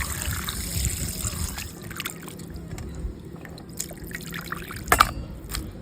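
Raw chicken pieces are rinsed with running water, which trickles and drips steadily at close range. A few sharper splashes and clatters come near the end.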